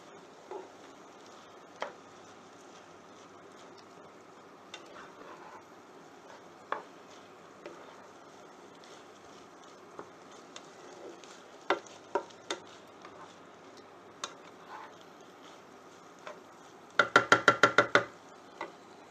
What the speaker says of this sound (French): Je vais tout bien mélanger.